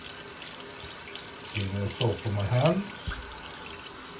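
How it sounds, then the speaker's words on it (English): Water running from a tap into a shaving bowl at a sink, a short splashing pour lasting about a second and a half, close and moderately loud, with someone talking just before and after. "I put a little water in it."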